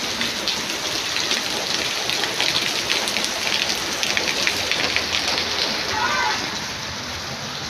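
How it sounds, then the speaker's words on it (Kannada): Heavy rain pours down in a dense, continuous patter of drops striking surfaces, loud and close, easing slightly toward the end. "ಯಪ್ಪ ಮಳೆ ಸುರಿತಿತ್ತು"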